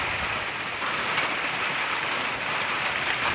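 Heavy rain pours steadily onto surfaces outdoors among freshly pruned plants, making a dense, even hiss that lasts throughout with no pauses or voices.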